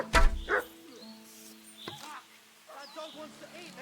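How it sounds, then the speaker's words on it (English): A dog in Kingdom Come Deliverance 2 gives a sharp bark followed by whimpering yips, with game music and voices carrying on around it and short tonal cries later in the passage. "dog wants to eat me."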